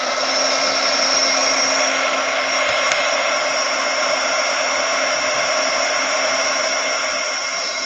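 A heat gun blows a steady, loud, unbroken whir while drying paint on a Medusa figure, with no talk over it.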